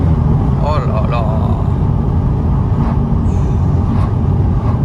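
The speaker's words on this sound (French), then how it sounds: "le retour à l'échappement est vraiment sympa" Deep engine and exhaust rumble from a moving Audi S3 with a 310 hp engine and stock exhaust, loud and steady, with brief voices heard over it.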